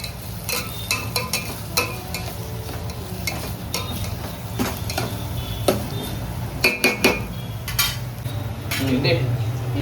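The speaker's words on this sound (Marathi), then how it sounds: "हा पडला कॅप्सिकम आणि टोमॅटो आम्ही टाकतोय." Vegetables such as capsicum and tomato cook in a hot pan while making Manchurian, giving a steady sizzle under scattered clinks of a spoon and utensils stirring against the pan.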